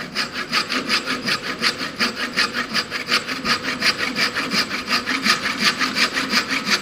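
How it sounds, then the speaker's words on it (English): A hand saw cuts through wood for a dovetail joint with steady back-and-forth rasping strokes, a rapid even rhythm, close and continuous with no talking. "Yes, manual sawing operation"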